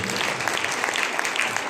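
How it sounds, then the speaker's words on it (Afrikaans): A church congregation claps its hands during a service, a brief stretch of steady, moderately loud group clapping. "Kan ons die Here hande klap gee"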